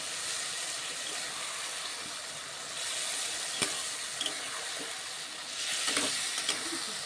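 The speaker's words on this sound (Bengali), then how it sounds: "আলু পেঁপে আর এই যে কোলা গাছের ডাঁটাগুলো সেদ্ধ করে রেখেছিলাম মশলার মধ্যে আমি দিয়ে ভালো করে আমি নাড়িয়ে নেব" Boiled potato, papaya and banana stem pieces are stirred into frying masala, giving a steady close sizzle broken by a few soft scrapes and clinks of the spoon.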